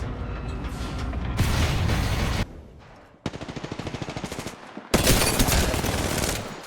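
Video game gunfire comes in sustained loud bursts, including a stretch of rapid, evenly spaced automatic shots between two dense, roaring volleys, with no talking.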